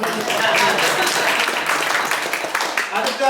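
Applause for a contest winner at a Tamil New Year community event with a free biriyani giveaway, steady dense clapping from a crowd filling the clip, with voices mixed in underneath.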